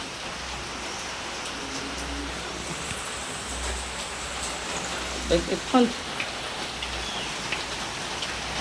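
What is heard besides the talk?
rain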